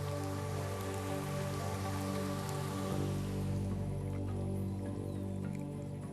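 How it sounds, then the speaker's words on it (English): Steady rain falls on the Serengeti in a dense, unbroken patter of drops, a constant hiss that holds even and unchanging with no voices. "This is more than just rain, more than drinking water."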